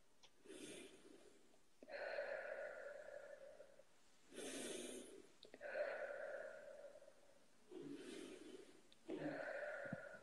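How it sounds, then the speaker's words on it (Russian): Slow, deep breathing, in through the nose and out through the mouth, close to the mic: long airy inhales and exhales in an even rhythm, about five cycles with soft pauses between. "дыши глубоко. Вдох через нос, выдох через рот"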